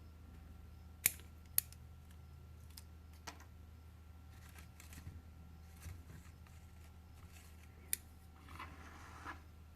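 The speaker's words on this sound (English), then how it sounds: "we can just cut a little bit of the older leaves off." Scattered sharp clicks of pruning shears snipping older leaves off a hibiscus plant, a few distinct cuts spread over the clip against a low steady hum, with no talk.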